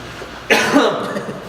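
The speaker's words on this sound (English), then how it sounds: "I'm gonna cough real quick." A single cough breaks out abruptly after a quiet moment, followed by a short trailing throaty sound at close range.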